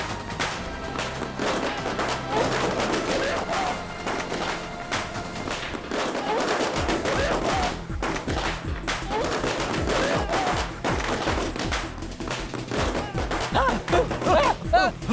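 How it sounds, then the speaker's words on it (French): Rapid bursts of firecrackers crackle and pop continuously, dense and loud, with some heavier thuds mixed in throughout. "Il y a trop de pétards."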